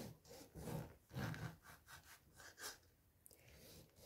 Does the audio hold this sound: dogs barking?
no